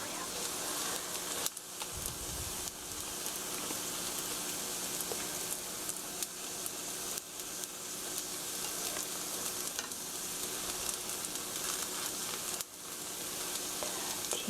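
Frying in a pan, a green onion egg roll gives off a constant even sizzle, with a few soft taps and scrapes from turning it and light talk in places.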